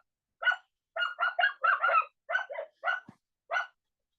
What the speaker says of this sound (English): What is wrong with these dogs?